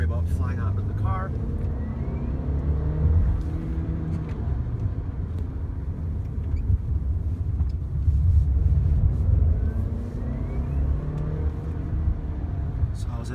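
A 2017 Volkswagen Golf SportWagen Alltrack driving, giving a steady low engine and road rumble inside the cabin that swells slightly at times while people talk throughout.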